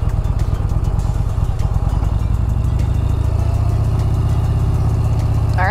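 A Yamaha Bolt motorcycle idles at a hotel in Orlando with a loud, close, steady low rumble and fast, even firing pulses that hold for several seconds with no talking.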